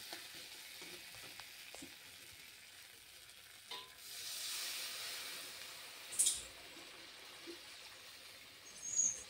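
A little water is added to a hot pan of fried spice paste, setting off a soft hiss and sizzle that swells for about a second, then settles back into faint crackling with occasional clinks.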